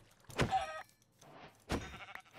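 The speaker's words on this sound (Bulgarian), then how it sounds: "Овца, крава, добре." A Minecraft sheep bleats twice, two clear nasal calls about a second apart, close and moderately loud against quiet game ambience.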